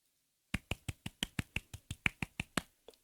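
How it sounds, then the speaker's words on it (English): A quick run of about twelve sharp hand claps in a fairly even rhythm, close and crisp, starting after a short silence with a final softer clap after a brief pause. "Definitely a clap there."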